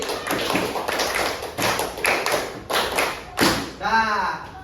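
A classroom group claps in a quick rhythmic pattern, sharp bursts of claps separated by short pauses, ending with a voice speaking.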